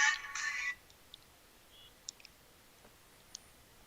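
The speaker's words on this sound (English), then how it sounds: "your phone's blowing up right now" A phone ringing and buzzing with notifications: a loud bright ring burst at the start, followed by scattered faint short pings and clicks over quiet room tone, with no talk.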